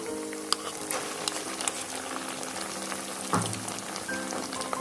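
Ground onion paste and whole-spice paste frying in oil for beef bhuna, a soft steady sizzle with scattered crackles and pops, moderately close with faint background hum.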